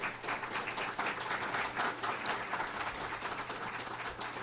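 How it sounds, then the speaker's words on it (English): An audience at a panel discussion on fisheries, wildlife and offshore wind energy gives a round of applause, a dense, sustained wash of many hands clapping that stays steady for several seconds. "Let's give a round of applause, please."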